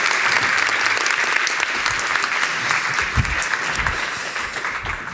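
A sustained, steady round of audience applause at an Amnesty International privacy event, many hands clapping at an even level throughout with no voices on top.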